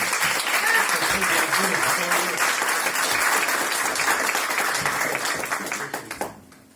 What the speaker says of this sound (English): can we have just one more round of applause for Joel Rutherford?